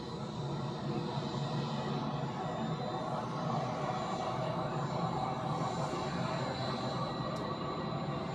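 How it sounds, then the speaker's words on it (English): EasyJet airliner taxiing toward the runway at Zurich airport, a steady broadband engine roar held at a distance for the whole stretch, with no talking. "EasyJet is taxiing to the runway."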